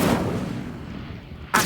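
The Incendio fire spell is cast in Hogwarts Legacy, a loud, close whoosh of flame that roars and slowly fades, then a fresh burst cuts in at the very end.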